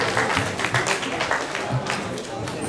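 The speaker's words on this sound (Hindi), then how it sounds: "एक बार और तालियां बजा दीजिए अंशिता के लिए।" Audience applause for a prize winner at an Independence Day stage event, a steady wash of many hands clapping from close to middle distance, with voices mixed into the crowd noise.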